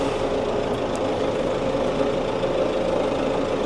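A steady, low tractor engine idle rumbles continuously at an even level, with no talking over it.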